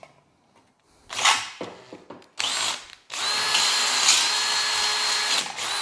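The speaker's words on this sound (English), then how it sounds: "I'm just enlarging this 1/4 inch hole to 7mm so we can slide a red hot rivet into it." Power drill enlarging a 1/4 inch hole to 7mm for a rivet, with a few short bursts of spinning and cutting followed by a longer, steady, close whine of the drill biting into metal.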